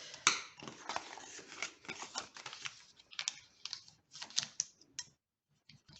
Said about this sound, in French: on va prendre un plioir en os et marquer chacun des plis